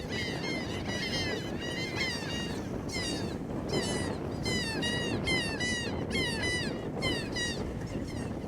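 A flock of laughing gulls calling repeatedly, rising and falling cries in quick clustered bursts over a constant background rush, fairly close.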